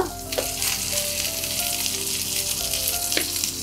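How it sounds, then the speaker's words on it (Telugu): Tindora frying in a pan with asafoetida, a steady close sizzle with occasional bright crackles throughout, no talking. "అది కూడా కొంచెం బాగా ఫ్రై చేసుకుందాం"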